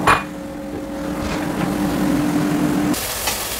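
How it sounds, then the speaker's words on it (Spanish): Chopped onion sizzles in a preheated pan while chilaquiles are being cooked, giving a steady close frying hiss with a faint hum under it that cuts off near the end. "estoy friendo la cebolla"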